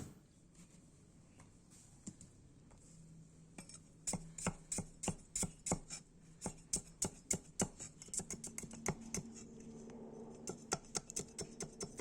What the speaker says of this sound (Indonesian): Ini pala dan kemirinya juga saya iris-iris dulu.